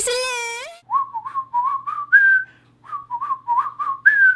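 Bright, melodic human whistling opens a song. A short rising slide leads into a string of cheerful, bouncy phrases, loud and close.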